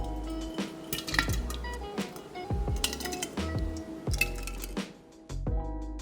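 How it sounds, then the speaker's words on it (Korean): Sugared peach pieces go into a glass jar, producing a series of sharp, close clinks and taps at irregular intervals, with soft squishy handling sounds in between. "유리병에 담아"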